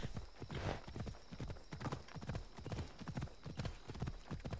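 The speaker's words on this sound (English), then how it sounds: "Good horse. Trample everyone in your path." A horse gallops in Assassin's Creed Odyssey, its hooves drumming in a quick, steady clip-clop rhythm, close and continuous over a faint game background.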